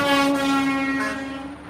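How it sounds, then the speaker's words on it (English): A dump truck's loud air horn blares on the DC Beltway during a convoy, holding one sustained, steady, harmonic-rich blast close by with no talking. "That dump truck, those horns for some reason, I don't know how he made them so loud"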